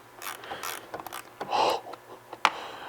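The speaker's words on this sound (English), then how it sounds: "Hey, this is a gear wrench." Ratcheting gear wrench turned on a modified snowmobile sled, giving a few quick mechanical clicking bursts and one sharp click near the end, close and moderately loud among light handling noise.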